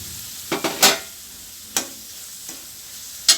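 Sautéed ivy gourd (kovakkai) is stirred in a frying pan, with a few short scraping strokes over a low steady sizzle and no talking.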